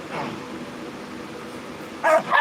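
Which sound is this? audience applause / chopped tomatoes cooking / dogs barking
dogs barking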